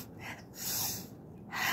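Forceful breath exhales in a Breath of Joy pranayama exercise: a few airy, breathy rushes of air, close and moderately loud, repeating with pauses between them, with no talking.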